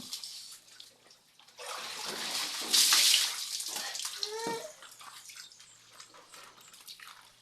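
Water pours and splashes into a container, a rushing hiss that swells to a loud burst midway, then trickles and drips quietly with some background voices.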